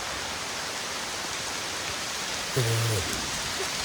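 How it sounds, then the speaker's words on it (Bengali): Heavy rain pours down steadily in a farming area, a dense, even hiss of falling water filling the whole stretch, with a short tonal sound rising briefly over it near the end. "প্রচুর বৃষ্টি"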